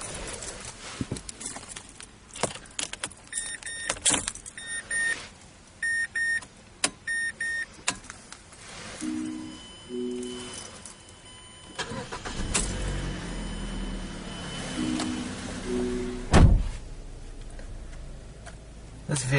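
A 2012 Mazda 3 i Touring sits with a few electronic chimes and soft clicks in the cabin. Then its engine cranks, catches with a brief surge and settles into a low, steady idle.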